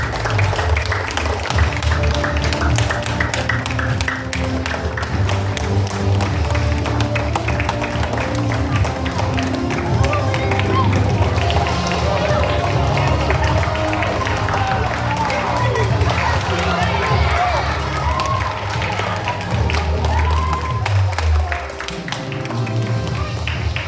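Audience applause and cheering at a school Christmas assembly, sustained loud clapping from a crowd of children and adults filling the hall, with excited voices mixed in before it tapers off at the end.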